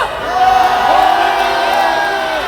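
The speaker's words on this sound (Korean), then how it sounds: "다시 한번 박수 보내주십시오" Crowd at a candlelight rally calling for impeachment, a loud sustained wave of cheering and shouting voices rising and holding across the whole stretch.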